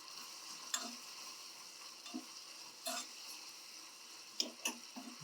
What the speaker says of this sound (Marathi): साखरेच्या पाकामध्ये ते पाकळ्या शिजल्या जातात